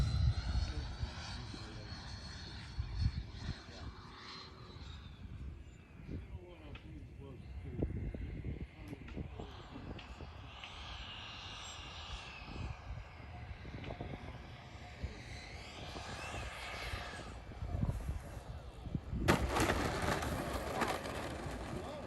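An HSDJETS F-16 105mm electric ducted fan model jet landing on its maiden flight, a faint fan whine fading under bumps, wind noise and people talking nearby.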